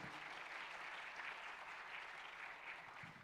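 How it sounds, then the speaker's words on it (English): An audience at a small-business event applauds panelists, a continuous even wash of many hands clapping, faint and distant with no break across its span. "can you give a big round of applause to our panelists today?"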